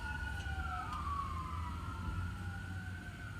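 Wailing emergency siren sweeping up and down in pitch outdoors, moderately distant, with a low engine and road rumble beneath it and no voices.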